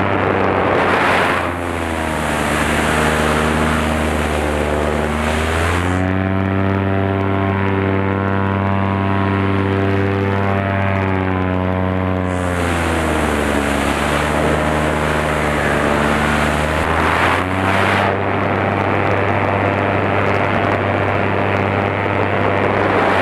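A Vittorazi Moster 185 paramotor engine runs loud and close with a steady, buzzing drone, its pitch rising and falling as the throttle is opened and closed.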